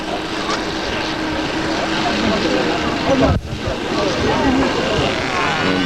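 A light aircraft engine idling on landing approach at Yverdon in 1981, a steady drone at low power, loud and close, with a brief dip midway before the hum resumes.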